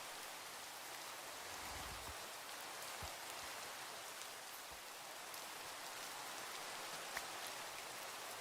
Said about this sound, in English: It's also raining.